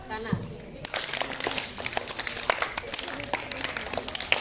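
Students clap together in patterned rhythmic bursts of two, three and four beats, sharp and fairly close in a school setting, with children's voices calling along underneath.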